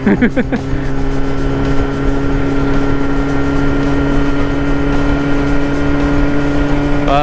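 A Yamaha R6 motorcycle engine drones steadily while riding, with a sustained loud buzz and a brief rising rev at the start.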